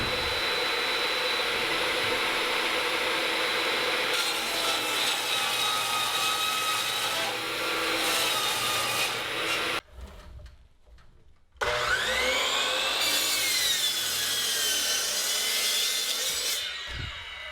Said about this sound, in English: Let's rip some plywood. I've already set the fence at 20 inches